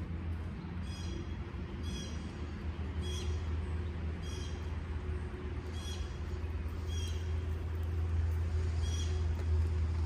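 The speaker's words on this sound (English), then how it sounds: "The birds are singing." A bird repeats short, high chirps at a regular pace, over a constant low hum of distant traffic or machinery.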